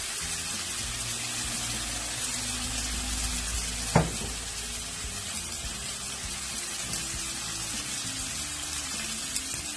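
Chopped ginger and garlic fry in hot oil in a pan for Turai Gosht, giving a steady, dense sizzle throughout with one brief stirring scrape midway and no talk.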